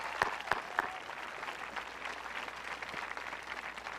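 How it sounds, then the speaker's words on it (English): A graduation audience applauds two class marshals at a school ceremony, a few sharp claps at the start swelling into steady, fairly distant clapping from the crowd. "Can we give Julia and Alex a round of applause?"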